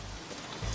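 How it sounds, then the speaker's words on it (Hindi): Heavy monsoon rain pours down outdoors, a soft, even hiss of drops on surfaces, fairly faint and continuous, with a low rumble swelling near the end. "यहाँ इतनी बरसात हो रही है"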